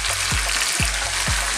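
Sliced fresh tomatoes sizzling in a hot pan for garlic tomato chicken, a dense steady frying hiss with three regular low knocks or clicks underneath.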